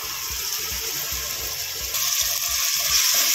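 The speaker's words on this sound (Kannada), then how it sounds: "ಇದು ಸ್ವಲ್ಪ ಹೊತ್ತು ಚೆನ್ನಾಗಿ ಸಣ್ಣ ಬೆಳ್ಳುಳ್ಳಿ ಪೇಸ್ಟ್ ಹಸಿ ವಾಸನೆ ಹೋಗೋವರೆಗೂ ಫ್ರೈ ಆಗಲಿ" Ginger, garlic and green chilli paste frying with onions in a pan for vegetable pulao, a steady close sizzle with soft bubbling and a few light stirring knocks, no voices.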